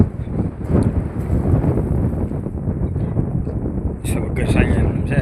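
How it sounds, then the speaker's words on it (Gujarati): Strong outdoor wind buffets the microphone with loud, continuous low rumbling gusts, and a faint higher flutter comes through near the end. "પવન એટલો છે"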